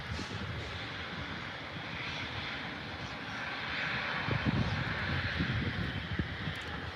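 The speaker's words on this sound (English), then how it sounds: "I think that's a Royal Flying Doctor's aircraft, which is about to come in" Propeller aircraft of the Royal Flying Doctor Service approaching to land at Adelaide Airport, a steady broad engine drone with wind-like rush that swells slightly louder midway, heard from a distance without talk.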